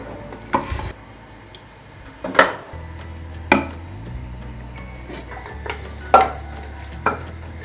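Mutton karahi is stirred in a pot on the stove, a spoon scraping and clanking against the metal several times over a low steady sizzle, close up with no talking.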